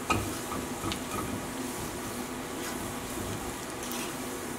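Food is stirred in a hot pan with oil, with a steady sizzle and soft scraping and stirring strokes close by, and no one talks.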